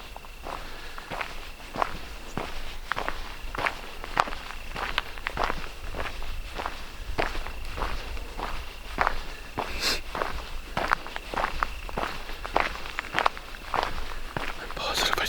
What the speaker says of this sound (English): I'm positive I just heard footsteps.